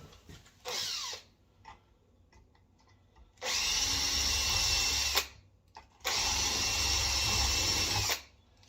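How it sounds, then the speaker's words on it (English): Power drill pre-drilling holes in wood while hanging a door: a brief burst, then two longer sustained loud whirring runs of about two seconds each, close up, with quiet handling clicks between. "maybe pre-drill the holes and then make a big hole for the latch receiver"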